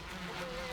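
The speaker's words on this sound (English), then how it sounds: "he accidentally comes across a wasp nest and gets stung" A dense, steady insect buzz of wasps swarming from a disturbed nest in a horror film scene, close and continuous with no speech over it.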